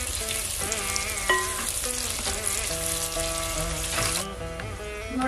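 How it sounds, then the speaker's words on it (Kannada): Chopped onions frying in hot oil in a village kitchen pan, a steady close sizzle with stirring scrapes and faint clinks throughout, no voices. "ಎಣ್ಣೆ ನೋಡು ಸ್ವಲ್ಪ ಬಿಸಿ ಆದ್ಮೇಲೆ ಇವು ಹೆಚ್ಚಿರ್ತಕ್ಕಂತ ಈರುಳ್ಳಿನ ಹಾಕಿ ಸ್ವಲ್ಪ ಫ್ರೈ"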